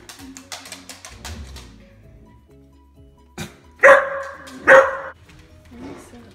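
A dog barks twice in loud, sharp bursts close by, following quieter rustling and speech from people in the room.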